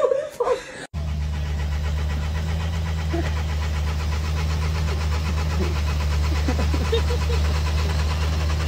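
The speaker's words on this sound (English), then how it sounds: "M3 started up fine." A BMW E92 M3 at the Nürburgring on a cool morning fires up: a short rustle, then the engine catches about a second in and settles into a steady, close, deep idle rumble.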